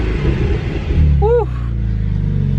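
A Porsche 911 rumbles loudly up close with its exhaust valves open and revs briefly, while a voice gives a short excited whoop over the deep, steady engine tone.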